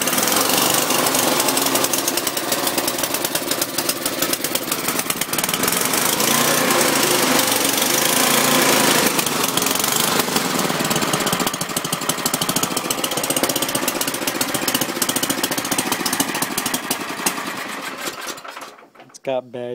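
A Murray snowblower's small engine, running rough on bad gas, cranks up and runs loud and close with a rapid, rattling chatter for nearly the whole stretch, then cuts off abruptly at the end.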